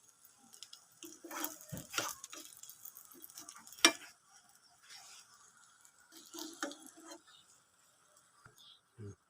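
A bread omelette frying in a pan gives a soft, intermittent sizzle with scraping and stirring as it is turned, while someone speaks over it.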